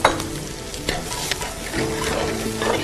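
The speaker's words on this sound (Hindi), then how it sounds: "આજે સંતળાઈ રહ્યું છે, એની સુગંધ આવી રહી છે" Finely chopped onions with garlic, ginger and chili paste sauté in a pan, giving a steady close sizzle broken by the scrape and clack of a stirring spoon, with no talking.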